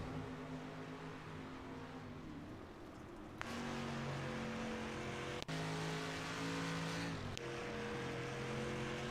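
Street stock race cars in a sim racing game at USA Speedway drone with steady, loud engine tones that shift pitch as they accelerate and change gear, with a sharp click partway through.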